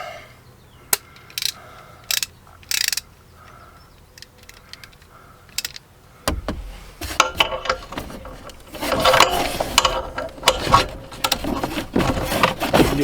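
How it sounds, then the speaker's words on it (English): Long ratchet wrench turning a broken pipe nipple, first as scattered sharp clicks with pauses, then a denser run of grinding, scraping metal clicks and rubbing. "I have my long ratchet. Let's try that."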